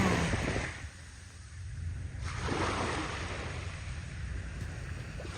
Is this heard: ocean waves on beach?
yes